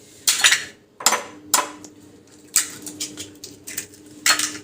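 Two eggs being beaten for an omelette, with a utensil clinking against the bowl in short, uneven bursts of rattling taps and pauses between them.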